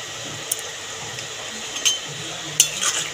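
Taro and hilsa fish head curry stirred in a pan, with a few scattered utensil clinks against the pan over a faint, quiet sizzle.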